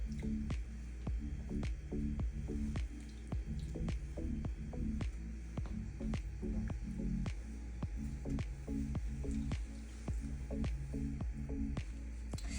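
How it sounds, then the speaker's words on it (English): Raw chicken breasts laid into a crock pot of taco soup make soft wet squishing and dripping sounds over a steady low hum, a series of moist thuds and slaps close by. "now we're gonna lay the chicken on top."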